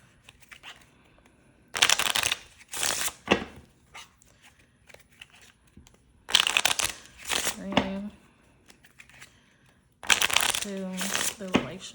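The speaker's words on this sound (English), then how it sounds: "let me shuffle one more time. I feel like I need to shuffle one more time." Tarot cards being shuffled by hand in a few short riffled bursts, close and crisp, separated by pauses, with a person talking in between.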